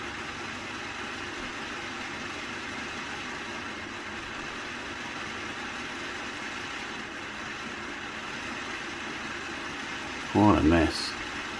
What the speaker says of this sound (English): Oh, it's speeding up and slowing down.